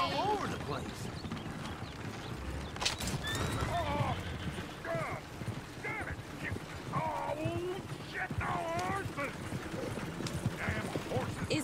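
Horse in the video game Red Dead Redemption 2, set in a town with a coach nearby: hooves clip-clop and the horse whinnies several times, mixed with creaking wagon mechanisms and people talking throughout.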